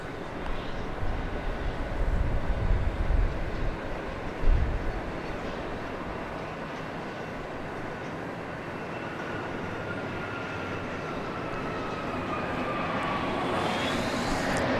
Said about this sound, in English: We should have this JSX plane coming in here. Here it is.